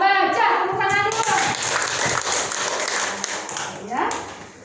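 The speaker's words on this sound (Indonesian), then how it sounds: "Tepuk tangan dulu" Clapping breaks out at a school parents' meeting after a voice, a short round of scattered applause from the room with children's chatter, fading as talking resumes near the end.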